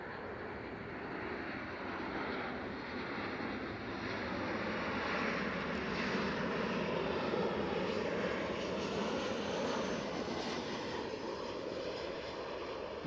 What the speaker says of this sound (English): Next plane's in.